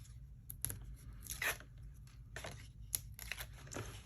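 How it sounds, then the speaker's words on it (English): Tape being peeled off a gusset paper envelope: faint, close, intermittent short tearing and crinkling strips of sound with pauses between them, no talking. "And then we'll take this tape off."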